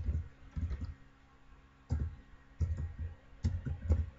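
Typing on a computer keyboard during a CorelDRAW banner design session: short clusters of close, soft key clicks separated by brief pauses, with no voices.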